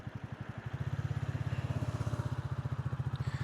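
A Royal Enfield Bullet 350 single-cylinder motorcycle engine thumps steadily while riding and turning, its pulsing beat close and loud, rising slightly as the bike pulls away, with no voices.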